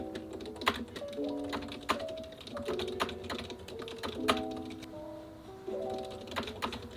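Computer keyboard typing during a writing sprint at a desk, rapid uneven clicking keystrokes in bursts, close and quiet with a soft room hum beneath.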